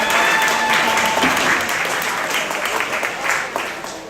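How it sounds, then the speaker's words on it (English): A gala crowd claps for itself in a loud, close wash of applause that peaks early and slowly tapers off, with a host talking over the start. "Clap it up for yourselves right now."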